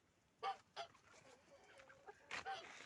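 A few short, sharp clucks from chickens in quick bursts, fairly faint, with softer clucking murmurs between them.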